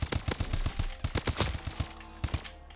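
Suppressed HBR rifle fire in Call of Duty: Advanced Warfare, a rapid burst of muffled, punchy shots with a brief pause and a few final rounds, loud and close with no talk.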